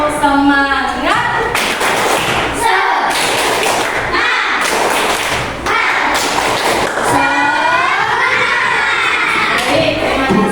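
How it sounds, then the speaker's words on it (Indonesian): A fifth-grade class performs a rhythmic spirit clap, loud, near bursts of many hands striking together in a patterned beat, mixed with children's chanting voices and shouting. "Coba sekali lagi tepuk semangat."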